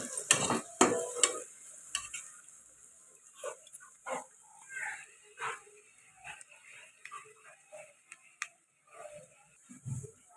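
Onions and green chillies stirred and fried in a pan while making chicken curry, with a run of scraping stirs and soft sizzling, then quieter gaps between the strokes.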